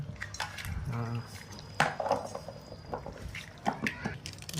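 Chicken biryani masala with curd, turmeric and coriander powder is mixed by hand in a metal pot, with wet squelching, scraping and clinking of the vessel up close, and a voice briefly heard.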